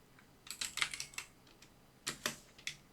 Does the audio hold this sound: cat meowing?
no